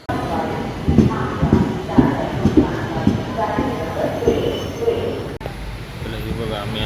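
Rumble and rhythmic clatter of a Sindhudurg-to-Mumbai train carriage, with a low steady roar and periodic knocks, while people talk nearby.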